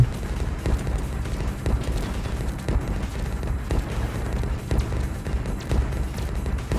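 Cannon fire in the space combat video game Space Choice: Data Analyzer comes as a continuous barrage of low booms and thuds. The shots are irregularly spaced and blend into a rumbling battle din.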